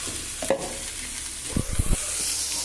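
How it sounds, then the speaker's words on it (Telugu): A beetroot and onion mixture is added to a hot pan and stirred, with a steady sizzle and a few close scraping strokes of a spoon against the pan. "So now will add this beetroot and onion mixture."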